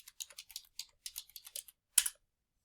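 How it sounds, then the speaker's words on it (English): Keys clatter on a computer keyboard as a title is typed, a quick irregular burst of close, crisp taps ending in one harder stroke, with no voices. "So we're going to type this title, right?"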